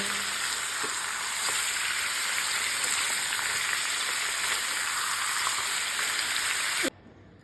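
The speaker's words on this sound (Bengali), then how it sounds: "আলু ভাজা তেলেই আমি চিকেনটাকে একটু ভেজে নেব" Chicken pieces fry in oil left from frying potatoes, a dense, continuous close-up sizzle with faint crackles that cuts off abruptly near the end.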